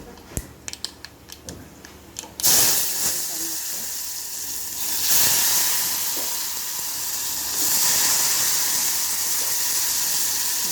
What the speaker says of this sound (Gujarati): એને 1-2 મિનિટ સાંતળી, આ રીતે તેલમાં થોડુંક સાંતળવાનું થઈ જાય